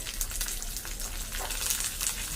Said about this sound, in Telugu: ఫ్రై అవుతున్నాయి కదా, అందులోనే ఎండుమిర్చి, పచ్చిమిర్చి, ఆవాలు, అలాగే కొద్దిగా కరివేపాకు